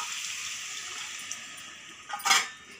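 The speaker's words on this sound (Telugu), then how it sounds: "మసాలా వాటర్ ఉంది, వాటర్ వేసేస్తున్నాను" Masala water is poured into a fish curry cooking in a pan, producing a short splashing gush over a background sizzle.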